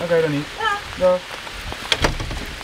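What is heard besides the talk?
heavy rain falling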